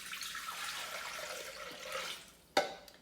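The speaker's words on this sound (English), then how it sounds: "you just put in a litre of water" A litre of water poured into a Thermomix TM6 mixing bowl for the pre-clean, a continuous close splashing stream that tapers off, then a sharp clack of a lid or container at the end.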